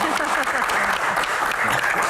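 Audience applause at a question-and-answer session, a short dense burst of clapping from a crowd with a voice speaking over it.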